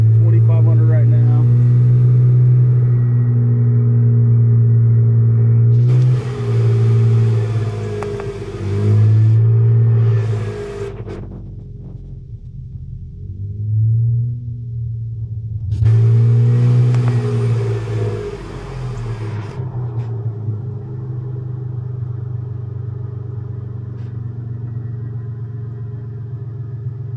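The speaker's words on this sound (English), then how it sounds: "So I'm increasing my RPMs." Car engine revved up to around 2,500 RPM during a battery test with high beams and blower motor on, a loud steady rumble with two surges of rising revs, then settling back toward idle.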